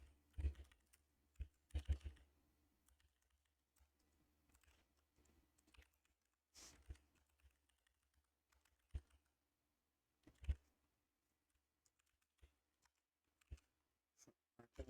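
Quiet keystrokes on a computer keyboard while JavaScript code is typed, coming in scattered bursts of clicks with short pauses between them, faint and close.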